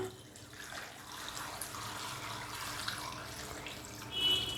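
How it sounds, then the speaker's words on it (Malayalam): Water pours steadily into a pot of tapioca with a soft, continuous splashing rush, growing briefly louder near the end; quiet, no voices. "ഇനി ഇടത്തിൽ വെള്ളം ഒഴിച്ച് കൊടുക്കാം"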